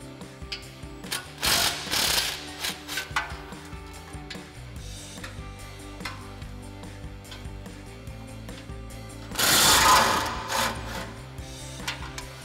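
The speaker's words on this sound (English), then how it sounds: "13 millimeter swivel socket and extension on our impact. We're gonna fish that up in there, unbolt those two nuts" An impact wrench with a 13 mm swivel socket and extension removes exhaust nuts under a 2019-2024 Silverado or Sierra 1500. Two loud rattling bursts come amid scattered clicks and clanks of nearby tools.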